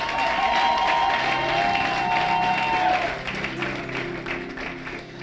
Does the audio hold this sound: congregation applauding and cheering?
yes